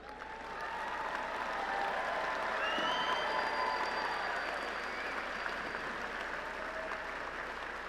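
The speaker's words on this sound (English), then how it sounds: "please stand and receive our applause" Audience applause fills a hall at a Lamar University College of Engineering commencement in May 2019, a sustained wash of clapping from a large crowd that swells and holds for several seconds, with faint tonal sounds above it.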